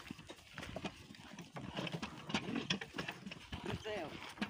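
Steady clip-clop of mares' hooves pulling a manure cart on a Ukrainian farm, rhythmic and fairly close, running under people talking and calling out to the horses throughout.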